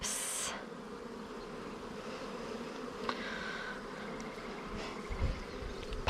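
Honeybees humming steadily throughout a hive inspection, a dense, continuous close buzz with a few individual bees passing nearer now and then, and no talking.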